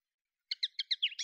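A black redstart gives a quick series of about seven thin, high chirps after a moment of silence. The calls are faint and evenly spaced, with no other sound.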